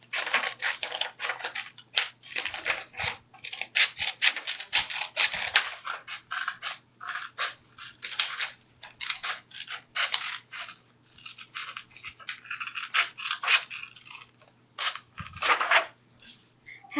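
Scissors snip through a paper page, trimming away strips along red lines, in a long series of crisp, close cuts with short pauses between bursts and no talking.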